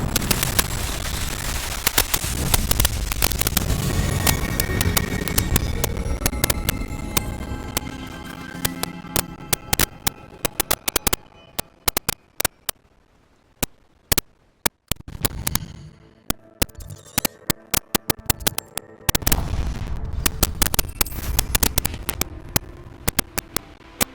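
Fiery Confringo spell blasts in Hogwarts Legacy go off as dense, rapid crackling bursts, loud and close, fading to scattered pops midway before another volley surges back, with no talking over them.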